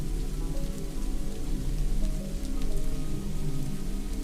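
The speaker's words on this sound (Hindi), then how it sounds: "बारिश बहुत तेज हो रही थी।" Heavy rain pours down steadily on surfaces, a dense continuous hiss of drops with low rumbling underneath, loud and unbroken throughout with no voices.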